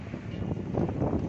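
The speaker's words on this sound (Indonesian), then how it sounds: "Angin besar sekitar Pondok Ungu Permai, sekitar Marakas, sekitar Pospol Pondok Ungu Permai." Strong gusting wind during a heavy rainstorm in Pondok Ungu Permai, Bekasi, a steady broadband roar that swells and buffets the microphone throughout, with no voices.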